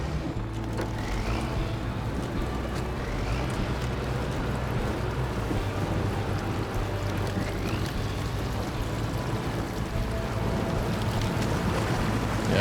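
A Tatarin truck in the SnowRunner game wades through deep water on a Wisconsin forest map: a steady, continuous wash of churning water over a low engine drone, evenly loud throughout with no voices.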